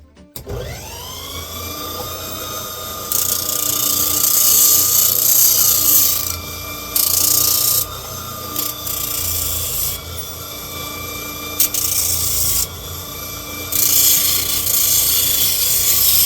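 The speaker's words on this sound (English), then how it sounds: "We'll sand it down a bit" Sanding wood for a leathercraft stitching pony, a steady rasping rub with a constant machine-like whine, strokes swelling louder in repeated bursts, close and alone with no talk.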